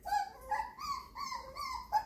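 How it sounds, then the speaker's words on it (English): Five-week-old puppies whimper and whine close by in a quick run of high, rising and falling cries, several overlapping yelps with no talk. "So there you have it, our 5-week-old puppies."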